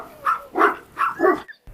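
A puppy barks four times in quick succession, sharp and fairly close, then falls silent.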